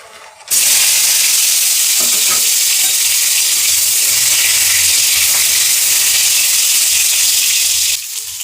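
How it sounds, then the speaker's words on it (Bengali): Sliced pointed gourd (potol) hits hot oil in a kadai with a sudden loud, continuous sizzle and frying hiss that holds steady close up before dropping away at the end. "তেল গরম হয়ে গেছে, এবার আমি পটলগুলো ভেজে নেব।"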